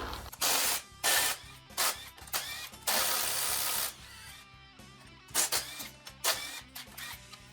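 Impact wrench removing bolts while pulling a damaged engine head, heard as several short, loud bursts of rattling hammering separated by brief pauses, close by and without talk.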